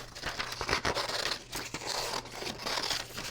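Scissors cutting out a printed paper image for a hand-lettering layout, a steady crisp snipping and rustling of paper, close and fairly quiet, with no talking.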